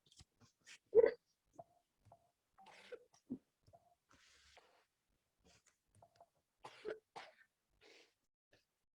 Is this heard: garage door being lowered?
no